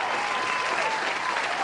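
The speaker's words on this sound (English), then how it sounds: "Let me go and give a round of applause here for the Celebration Bowl." Audience applause for the Celebration Bowl, a dense, steady clapping from a crowd, loud and continuous throughout.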